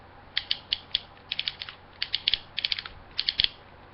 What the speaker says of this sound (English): A very nice ratcheted knee. Very nice click.